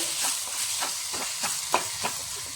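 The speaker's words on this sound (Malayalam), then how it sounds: "ഇല നമുക്ക് തുറന്നിട്ട് ഒന്ന് ഇളക്കി കൊടുക്കാം" Sweet potato leaves cooking in an open pot, stirred with a spoon: a steady steamy hiss with a run of soft, regular scraping strokes about twice a second and one sharper clack, fairly close, with no voices.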